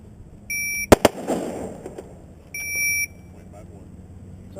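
A Haley Strategic adaptive carbine fires two sharp, loud shots in quick succession, bracketed by high electronic beeps from a shot timer before and after.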